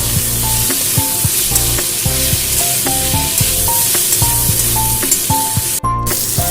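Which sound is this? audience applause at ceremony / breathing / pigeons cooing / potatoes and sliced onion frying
potatoes and sliced onion frying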